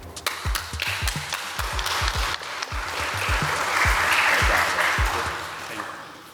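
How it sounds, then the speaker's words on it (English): An audience at a spring 2024 startup showcase applauds after a pitch, with sharp individual claps standing out at first and then merging into a louder, steady wash of clapping and cheering that fades toward the end. "another round of applause for Mike"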